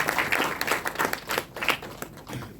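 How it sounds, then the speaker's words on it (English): Audience applause at a Goa rural tourism and homestay entrepreneurship event, a steady patter of many hands clapping for under three seconds with no talk over it. "I think we all should give them a round of applause for what they are achieving."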